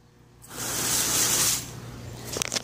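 A single burst of hissing water spray from a hose nozzle, lasting about a second, followed by a few brief clattering knocks.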